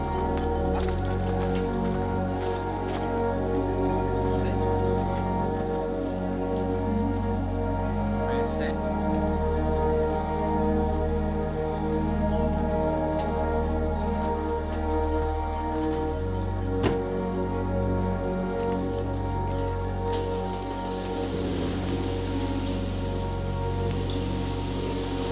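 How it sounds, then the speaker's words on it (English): Pouring rain at about 7:20 in the early morning, a steady wash of drops on surfaces with a constant low hum underneath, while someone talks throughout. "It's pouring rain here"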